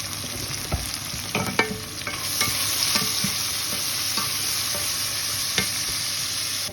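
Onions salted for a chicken curry fry in a pan, a constant close sizzle broken by spatula scrapes and taps against the metal.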